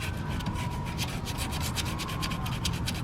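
Sandblasting rust off the engine bay of a convertible makes a continuous loud hissing, gritty rush at close range, steady from start to finish with no speech.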